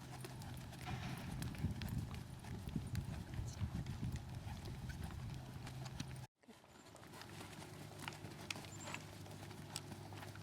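Hooves of a horse doing leg-yielding work in an arena clip-clop in a steady walking rhythm, faint and somewhat distant, with a brief dropout midway before the footfalls resume.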